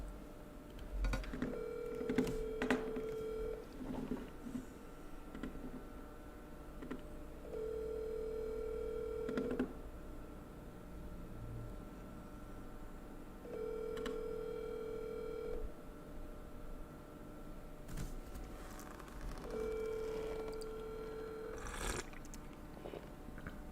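A telephone call is placed: several repeated ringback tones, each lasting about two seconds, sound at regular intervals, with soft clicks and faint room noise between them.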